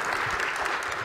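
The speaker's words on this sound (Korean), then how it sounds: "우리 작가님에게 다시 한번 큰 박수 해주세요" A church audience in Iksan applauds a visiting author, a brief, dense wash of clapping that stays steady and fairly loud throughout.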